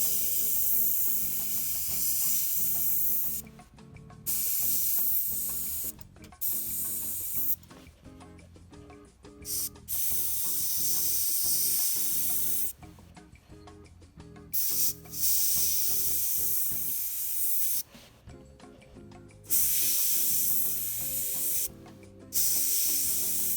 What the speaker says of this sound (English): First one we're gonna do is we're just gonna airbrush it in there.